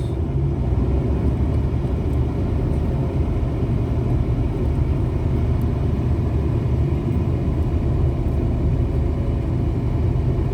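Road traffic in a traffic snarl on a route out of Kolkata produces a continuous heavy engine rumble, steady and dense, with no pauses or voices throughout.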